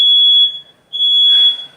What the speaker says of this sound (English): So, smoke alarm.